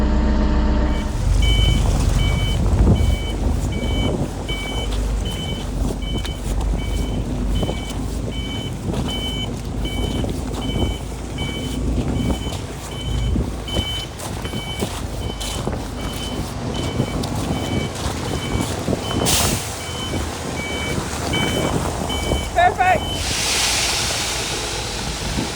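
Reversing beeps from a lorry backing into place in a yard ring in a steady repeating pattern over gusty wind noise and low engine rumble, fairly near and continuing most of the time.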